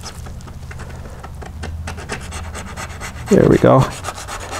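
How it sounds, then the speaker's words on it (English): Residue being scraped off a Walbro HDB carburetor after a soak in carb cleaner, heard as a steady close rubbing rasp that swells into a louder burst of scraping near the end, with a brief spoken remark. "Kind of let it soak in for a few, and then that way it'll scrape off real easy."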